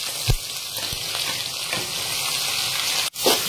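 Sliced onions fry on high flame in a pan, giving a loud, steady sizzle with a few soft knocks from stirring, and no voices.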